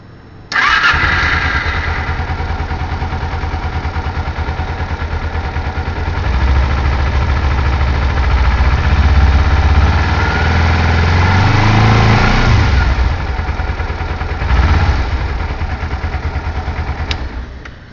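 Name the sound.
Kawasaki EX250R motorcycle engine starting and idling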